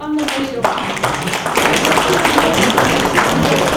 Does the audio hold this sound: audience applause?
yes